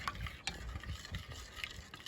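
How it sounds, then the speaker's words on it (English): A spoon stirs a cornstarch and water mixture in a bowl for an outdoor craft, making soft, repeated swishing and scraping strokes at a steady rhythm, close and fairly quiet, with no talking. "You're gonna keep mixing till the cornstarch and water are completely combined."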